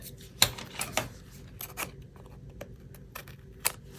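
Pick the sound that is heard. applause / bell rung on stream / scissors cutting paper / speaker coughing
scissors cutting paper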